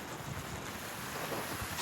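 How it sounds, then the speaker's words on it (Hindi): Strong wind blows across an open spot in Kazakhstan where pigeons gather. It comes as steady, rushing broadband noise with rumbling buzz against the microphone throughout. "हवा यहाँ पर बहुत ज़्यादा चल रही है"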